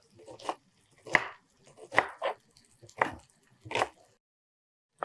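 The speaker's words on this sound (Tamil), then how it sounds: "ஸோ இந்த மாதிரி கட் பண்ணி வச்சுட்டு நல்லா பொடியாக சாப் பண்ணிக்கணும்" A knife chops shallots and onions finely on a board, giving a handful of sharp, irregular knocks close up with short pauses between them.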